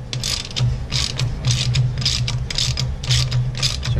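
A ratchet clicks rapidly in short bursts, loud and close, while tightening a valve lash adjuster on a Mustang 289 engine, the bursts repeating in an even back-and-forth rhythm.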